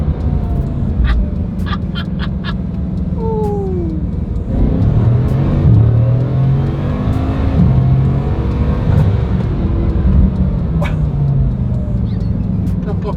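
A Ferrari F40 engine roars loudly and climbs through the revs in hard acceleration, with chirps and brief voices breaking in over the constant drone.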